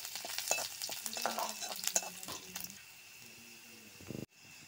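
Chopped garlic and coriander leaves fry in hot oil for Chicken 65, with a steady crackling sizzle and scraping stirs, then a brief clatter and sudden quiet near the end.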